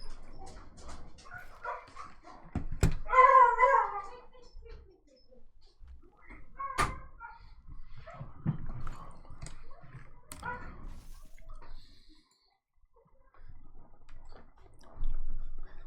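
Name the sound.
dog barking when someone comes home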